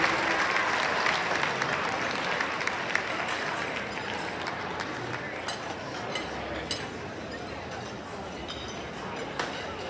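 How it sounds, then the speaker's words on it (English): Steady applause from a gala audience welcoming children onstage, a broad wash of clapping with scattered clinks and crowd murmur underneath, fairly distant and even throughout. "Give them a big round of applause."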